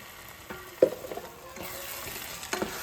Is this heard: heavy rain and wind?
no